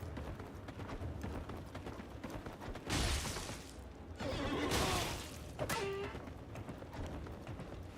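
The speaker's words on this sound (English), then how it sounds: "I just heard a donkey sound." In Elden Ring, a donkey brays against game combat noise, with hoof clops and mechanical clatter around it. Bursts of braying-like noise come in the middle, moderately loud.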